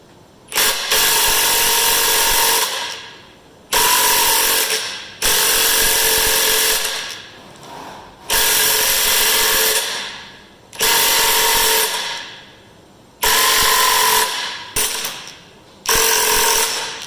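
A battery impact wrench drives a posi lock puller to pull a pressed part off a Massey Ferguson combine. Loud, close bursts of hammering whir, several seconds each, are separated by short pauses, and one burst cuts off early.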